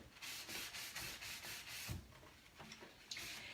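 Dark wax is buffed by hand on a painted cobalt blue wooden chest, giving a soft, steady rubbing and scuffing in quick back-and-forth strokes, close but quiet.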